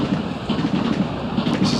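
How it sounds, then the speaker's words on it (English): A fast commuter train rushes past near the Chambers Bay golf course during the U.S. Open, a loud, steady broadband rumble and roar with faint rail clatter and no pause throughout. "This is a fast commuter train going by."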